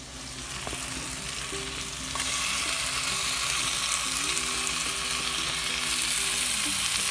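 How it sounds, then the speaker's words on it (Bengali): A spatula stirs spicy octopus frying in a pan, with a constant loud sizzle and faint scraping under it that grows slightly stronger partway through; nobody speaks. "আমি জাস্ট একটু খুন্তি নাড়াচ্ছি"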